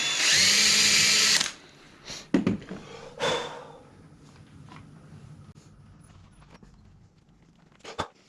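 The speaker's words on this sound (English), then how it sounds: "I'm going to try to pre-drill, and I'm only going to do a couple on each side, the top and the base" A power drill pre-drills screw holes into a wooden piano bench in a loud, continuous whine lasting just over a second, followed by scattered clunks, handling knocks and quiet shuffling.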